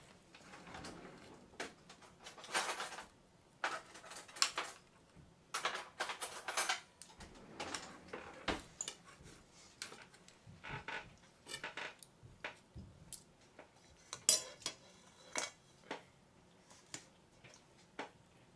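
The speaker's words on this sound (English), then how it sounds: "Cut a piece of this off here" Cutlery works through a piece of chicken and waffle on a plate, with scattered clinks, scrapes and taps in irregular clusters, close and fairly quiet, and no talking.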